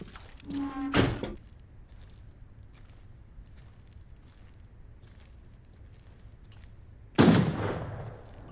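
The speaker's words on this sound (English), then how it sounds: "He's shooting at something." Two muffled, distant gunshot reports in Arena Breakout, several seconds apart, each a dull thump with a short decaying tail over quiet background hiss.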